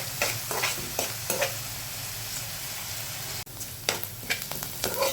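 Chopped onion sautés in a pan until browned, giving a constant sizzle broken by frequent scraping stirs, one brief pause, and no speech.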